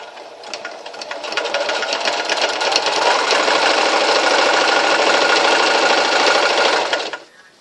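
A sewing machine runs a half-inch straight seam along the side of a pillow, its fast steady needle chatter close and continuous for about seven seconds before stopping.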